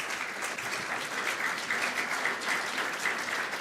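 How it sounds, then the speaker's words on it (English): A conference audience gives sustained, even applause for the speakers at a plenary discussion, dense clapping holding steady throughout with no talk over it. "a round of applause for all the speakers"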